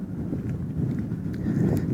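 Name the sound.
wind blowing on the microphone outdoors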